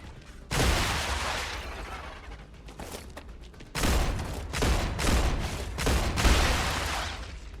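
Enemy gunfire in the video game Star Rupture comes in repeated loud bursts. A short volley is followed by a pause, then several rapid bursts crowd together close by, with no voices.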